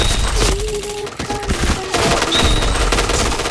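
Gunfire in the shooter game Point Blank, with loud continuous bursts of automatic weapon fire mixed with in-game sound effects and beeps, filling the whole stretch at close range.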